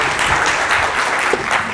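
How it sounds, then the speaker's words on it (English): An audience at the PyCon APAC 2016 conference gives steady, close, full-room applause to welcome a speaker onto the stage, with no voices breaking through. "With applause."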